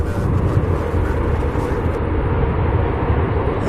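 Aircraft engine at a UPS hub in Louisville roaring steadily and loudly, its sound reflecting back off the UPS hangar structure, a continuous broad rumble without breaks.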